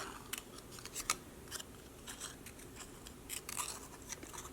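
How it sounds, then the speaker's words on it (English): Scissors cut paper in a quick series of short, crisp snips, close and fairly quiet over a soft background hiss, with no talking. "Cut it out and glue it in place."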